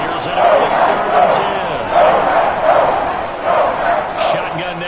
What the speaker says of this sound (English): Crowd getting into the bit already.